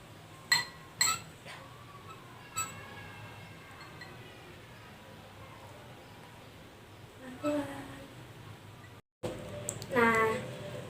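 A spoon clinks against a glass as green dish soap is poured slowly down the inside wall; a few sharp, close clinks come early, then a person talks quietly over a faint background hum.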